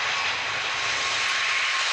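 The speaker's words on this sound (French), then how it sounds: "un avion à réaction qui passerait devant nous au décollage" A jet airliner passing during takeoff at about 300 metres, a loud, steady broadband engine roar that holds at full strength throughout with no voices.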